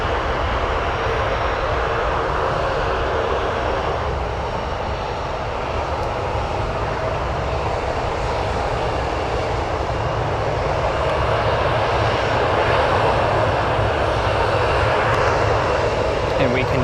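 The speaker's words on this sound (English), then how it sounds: "we can hear the Purdue University livery of Southern Airways Express on their Cessna 208 Grand Caravan" A Southern Airways Express Cessna 208 Grand Caravan turboprop taxiing at O'Hare Airport gives off a steady, loud engine drone with a broad rushing roar that holds constant throughout.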